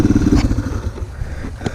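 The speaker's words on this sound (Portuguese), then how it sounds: "Desliga a moto." A motorcycle engine idles loudly and close on an off-road trail near a waterfall, a low rumbling chug with some clatter as it winds down.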